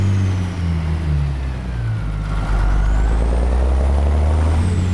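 A heavy FLX 359 truck engine in American Truck Simulator drones loud and steady, its pitch climbing and dropping as it is worked up through the gears, with a brief dip where a shift occurs.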